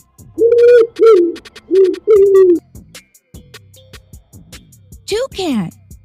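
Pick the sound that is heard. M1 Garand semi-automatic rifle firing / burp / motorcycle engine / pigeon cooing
pigeon cooing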